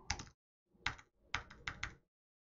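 A password goes in on a computer keyboard as a few quick, close, quiet key clicks in short bursts with pauses between them, recorded at low volume.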